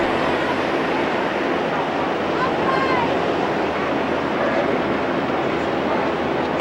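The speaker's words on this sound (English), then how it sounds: "The swells are a little higher here as the waves bang off the seawalls." Ocean swells surge and break against seawalls along the 2000 Sydney Olympic triathlon swim course, a dense, steady wash of surf and wind noise that roars continuously with no distinct breaks.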